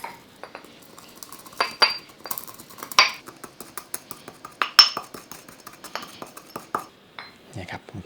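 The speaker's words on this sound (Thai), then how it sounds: "แล้วก็พริกไทยดำครับอันนี้นำมากรดหยาบๆเลย" Black peppercorns coarsely pounded in a mortar, a series of sharp clinking knocks at an irregular pace, close and fairly loud, with someone speaking over them.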